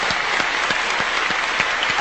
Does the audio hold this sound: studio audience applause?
yes